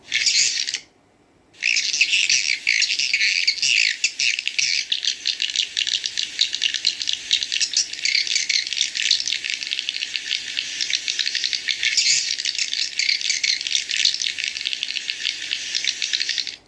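Recorded swiftlet calls of the indoor type, a dense continuous high rattling chatter that runs almost steadily, broken by one short gap near the start, loud and without voices.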